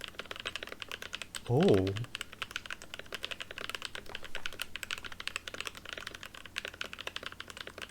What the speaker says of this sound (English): now we're gonna listen to Switch and Click sound test